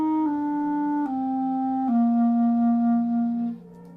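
Clarinet playing the first five notes in a slow descending line from G down to C, each tone held clearly and evenly, loud and close, with no talking.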